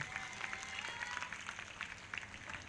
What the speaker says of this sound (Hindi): ताली बजाकर महिमा दे परमेश्वर को।